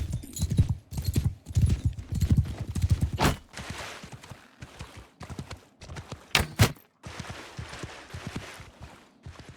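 Horse hooves in a Bannerlord battle clatter in rapid clip-clop bursts, heavy and close at first, then thinner and more scattered, with sharp combat impacts mixed in.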